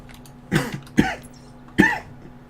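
Three separate coughs from a person outdoors on a hunt, harsh and close, spaced about half a second apart, with a low steady hum underneath.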